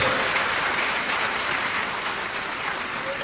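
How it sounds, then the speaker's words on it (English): Broad, steady applause from a large audience at a university congregation ceremony at KNUST in Ghana, a dense wash of clapping filling the hall at an even level throughout. "Please applaud His Royal Majesty, King Mswati III."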